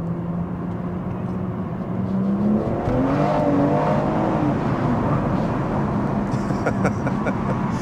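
A BMW M240i F22 with a Scorpion exhaust pulls hard through its gears, heard from inside the car as a loud, continuous engine rise with shifting pitch, and a few crackles from the exhaust toward the end.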